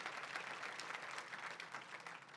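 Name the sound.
applause in church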